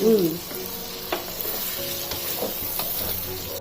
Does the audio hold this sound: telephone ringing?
no